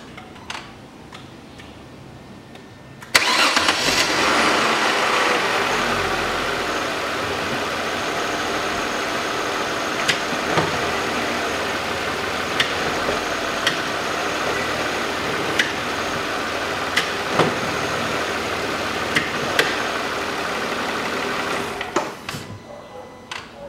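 A 2008 Chevrolet Epica engine idles with a gear engaged after front engine mount replacement, a steady mid-pitched hum that starts abruptly, holds evenly with faint ticks and clicks, then fades out.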